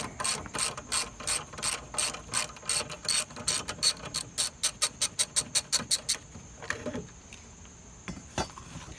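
A ratchet wrench clicks in quick, steady bursts as it loosens a 9/16 nut holding the wheel on a Craftsman 21-inch lawnmower. A run of rapid pawl clicks fades into a few scattered metallic clinks, all close by with no talking.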